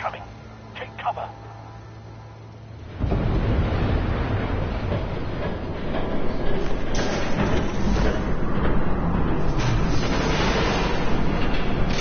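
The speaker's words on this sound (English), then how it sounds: "There's a train coming." A train roars past in the Batman: The Telltale Series video game, a loud, dense rumble that swells in abruptly after a short quiet stretch and keeps rolling steadily to the end.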